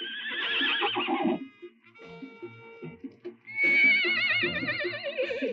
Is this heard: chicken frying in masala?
no